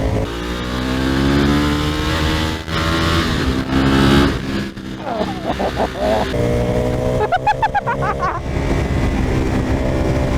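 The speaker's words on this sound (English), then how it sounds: "I'm basically on tick over on this bike." A Ducati motorcycle engine idles loud and close, holding a steady throbbing note with wind rush and a few uneven surges mixed in.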